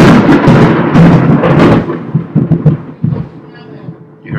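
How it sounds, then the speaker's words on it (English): Thunder rolls in a loud, rumbling burst that fades into scattered crackles and low distant grumbles, with a voice heard briefly amid the noise. "You heard the lightning?"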